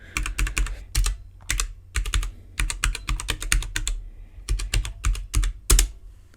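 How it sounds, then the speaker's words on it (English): Typing on a computer keyboard, heard up close and alone: bursts of rapid clicking keystrokes separated by short pauses, uneven in rhythm as words are typed out. "I have to be looking at the keyboard to type."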